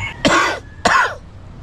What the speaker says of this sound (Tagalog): umubo.